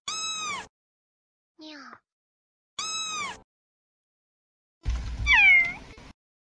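A human voice imitates a cat's meow, several drawn-out, tonal meows with pauses between, the last one louder and wavering over a low rumble, close and clear with no other talk.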